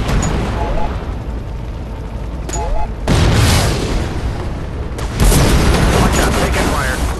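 Gunfire and explosions in the video game Shadow Strike, loud booming blasts and bursts of shots arriving in waves, with radio-style game voice callouts mixed in.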